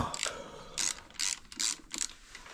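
A ratchet turns out fixings while a guard is removed from a smoking two-stroke motorcycle. Five or six short, crisp bursts of rapid clicking sound close up, separated by brief pauses, with no voices.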